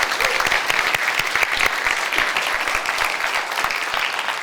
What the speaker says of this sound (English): she deserves a huge congratulations and a round of applause